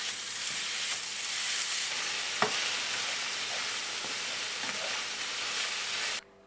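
Minced beef with onion sizzles hard in olive oil in a pan, a loud steady crackling hiss heard up close, with a few soft scrapes of stirring before it cuts off abruptly.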